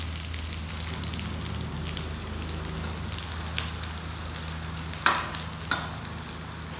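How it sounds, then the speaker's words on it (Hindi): Chopped onion sizzles in hot oil in a pan, making a steady, quiet frying hiss with a couple of brief louder crackles and stirring sounds near the end. "गरम हो गया, प्याज डाल दी है"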